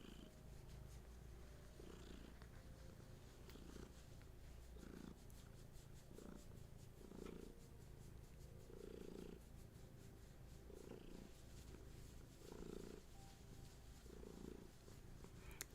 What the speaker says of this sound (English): You might hear a little gentle purr from little Gertie.